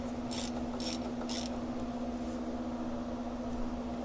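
Rapid ratcheting clicks come in three short bursts as a bolt is tightened on a 2006 Polaris Hawkeye, faint over a steady background hum.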